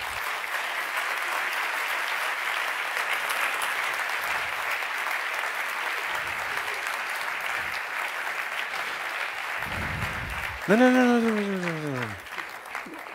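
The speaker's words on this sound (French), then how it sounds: "Congratulations, ça s'applaudit." Audience applause at an award ceremony, steady sustained clapping from a large crowd throughout, with brief speech and a rising electronic musical sweep near the end.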